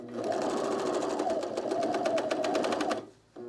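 A sewing machine stitches trousers in a fast, steady run of needle clatter for about three seconds, then pauses briefly and starts again.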